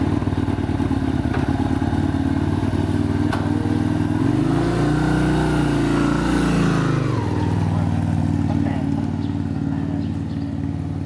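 A Honda Dio scooter runs close by with a continuous engine drone that rises in a revving swell midway and then settles back, with light clatter throughout.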